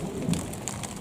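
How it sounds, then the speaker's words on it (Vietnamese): Heavy rain pouring onto a freshly planted, flooded rice field: a dense, even hiss of falling water with a few soft low rumbles, steady and close for about a second. "mà trời nó tán đám mưa này dữ lắm, lớn vậy."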